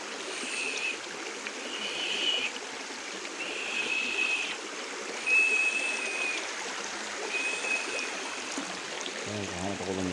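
Water flows steadily in a small stream, a continuous rushing wash with faint higher tones drifting in and out and a brief low rumble near the end.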